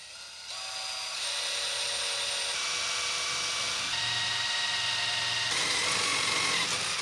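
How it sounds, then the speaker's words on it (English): A high-pitched power drill whirs steadily and continuously, drilling a starter hole with a 3/32-inch bit while mounting a winch on a trailer, its motor whine holding a constant pitch close by with no talking. "I'm going to use a 3/32 drill bit to kind of start the hole."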